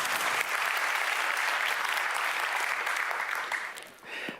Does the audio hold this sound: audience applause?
yes